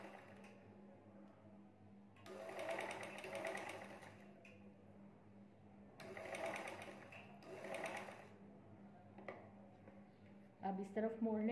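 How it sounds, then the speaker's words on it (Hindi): A sewing machine stitches fabric for a baby girl's gharara dress in two or three steady whirring runs of a few seconds each, with pauses between them, close and moderately loud, while someone talks throughout. "यहाँ रखेंगे और यहाँ सिलाई लगाएंगे।"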